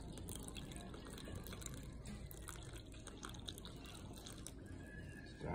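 A continuous stream of room-temperature water pours steadily into a jar of sourdough starter, a soft splashing wash with no talking.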